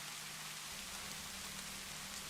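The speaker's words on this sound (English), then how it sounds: "Listening to the rain always makes me long for a pot of tea." Steady rain falls in an even, soft hiss of many drops on surfaces. It stays unbroken and fairly faint throughout.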